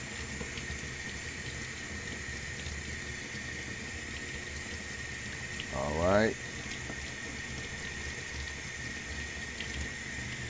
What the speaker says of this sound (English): Let me show you how I fill it up with water.